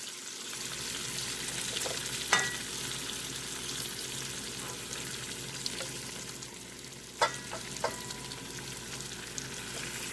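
Oxtails brown in a hot pan with rendering fat, a continuous soft sizzle and crackle, with a couple of sharper pops and clinks standing out.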